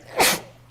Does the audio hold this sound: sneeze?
yes